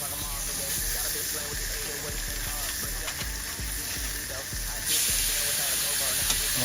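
Steady, loud sizzling and hissing of steaks frying in a hot pan, with a brighter burst of spattering sizzle toward the end.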